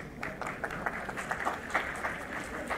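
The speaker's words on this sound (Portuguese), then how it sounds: "Uma salva de palmas para a nossa..." Light, scattered clapping from a small group at an education lecture, soft and somewhat distant, with uneven individual claps rather than a full ovation.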